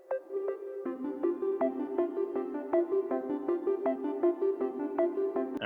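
Two Serum synthesizer arpeggios layered in a chillstep beat, bright plucked notes repeating in a steady even pattern over a sustained tonal bed, clear and alone.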